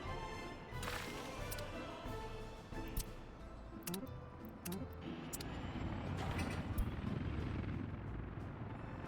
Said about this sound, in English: Now that the helicopters have fuel, they are eager to start delivering stuff.